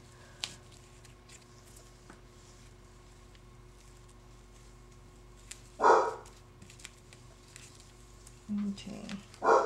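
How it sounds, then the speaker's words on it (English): A neighbour's dog barks in short bursts, a single yelp near the middle and a cluster near the end, distant and muffled indoors over a steady low hum in a home craft room. "Forgive the dog barking."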